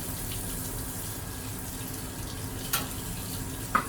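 Water poured out of a daylight film developing tank and rinsed at a sink during black-and-white film processing, a steady close splashing stream with a couple of brief clinks near the end.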